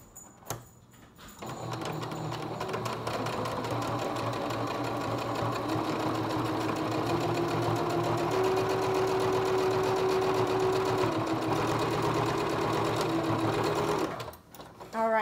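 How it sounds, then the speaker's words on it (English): A sewing machine runs steadily for about twelve seconds, stitching down the side seam of a fabric face mask with ear loops, a loud continuous whirring motor hum that starts and stops abruptly. "And we'll sew this side."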